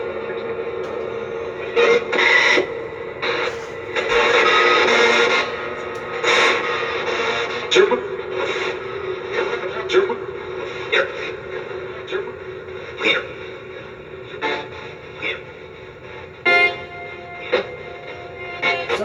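An AM radio spirit box sweeps through stations, throwing out harsh static, crackling bursts and choppy fragments of broadcast tones, loud and continuous with abrupt jumps.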